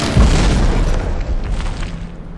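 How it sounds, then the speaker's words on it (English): A ship's cannon firing a shot in the naval-building game From The Depths, heard as a loud low boom that rolls into a long rumbling decay, with no one talking. "Here comes in for a third shot."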